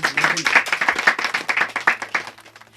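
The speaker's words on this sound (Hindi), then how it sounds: "जोरदार तालियां" Audience applause on a music show honouring a singer, a dense run of claps with a steady rhythm, fairly loud and close, fading slightly near the end.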